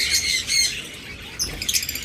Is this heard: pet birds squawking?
yes